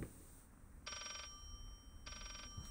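A telephone rings twice in the horror video game Layers of Fear, two bright electronic bursts about a second long with a pause between, standing out clearly over a dim, hollow room ambience.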